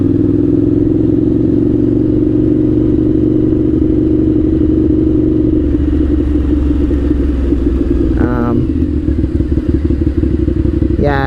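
A 1998 Suzuki TL1000R is ridden through city streets, its engine droning loudly and steadily from the rider's position, then easing off in pitch midway, with wind buffeting and light clatter over it.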